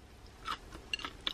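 Crunchy fish-style batter on Korean fried food being bitten and chewed close to the mic, a few quiet crisp crunches over about a second.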